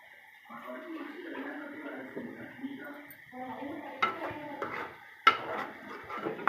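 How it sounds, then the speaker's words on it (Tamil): Egg curry masala being sautéed and stirred in a pan, with a spoon scraping and clinking against the metal a few times under continuous talking. "நல்லா வதக்கிக்கிடுவோம்."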